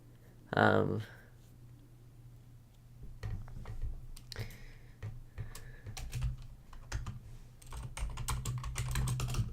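Scattered clicks and taps of typing on a computer keyboard, fairly quiet and irregular, with a louder burst of sound near the start and faint background noise throughout.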